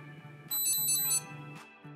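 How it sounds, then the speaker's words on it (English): A Garmin Edge bike computer linked to a Varia RCT715 rear radar beeps again as another vehicle is detected: a bright burst of three rapid high beeps, then a single short chirp, close and clean with no talk. "The Edge device beeps again when another vehicle is detected."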